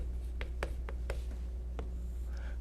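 Chalk or marker tapping and scraping against a board during an accounting lecture, a handful of short separate strokes at an uneven pace over a low room hum, fairly close and fairly soft.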